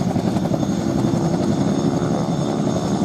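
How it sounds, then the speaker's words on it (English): Boeing Stearman PT-13/PT-17 Kaydet biplane with a Pratt & Whitney radial engine flying at an air festival, a loud steady droning engine roar with a throbbing propeller beat throughout. "It was one of the main American training aircraft of World War II, the Boeing Stearman PT-13 and PT-17 K-decks."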